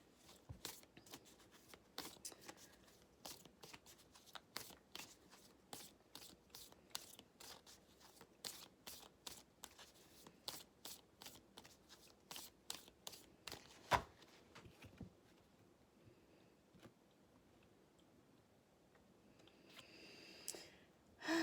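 Oracle cards are shuffled in a long run of soft, rapid riffling bursts, close and quiet, with pauses between handfuls and a brief rustle near the end.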